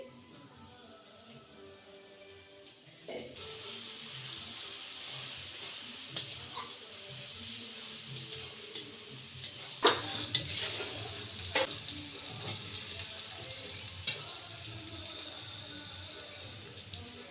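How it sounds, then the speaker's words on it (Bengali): Onion and chopped garlic fry in a pan for a rooster meat curry. The sound starts almost silent, then becomes a soft, steady sizzle with scattered clicks and scrapes of stirring, heard from a distance. "তো পেঁয়াজটা লাল লাল করে ভাজা হয়ে গেছে এবারে দিয়ে দিচ্ছি রসুন কুচি"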